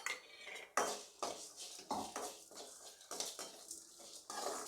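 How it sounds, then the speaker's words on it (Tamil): Whole spices, including star anise and cloves, are roasted in a dry pan, with repeated scraping and clattering strokes of a metal spoon at an irregular rhythm and no clear sizzle, heard close up. "எல்லாத்தையுமே ஒன்றா போட்டு நம்ம இப்போ வறுத்துக்கலாம்"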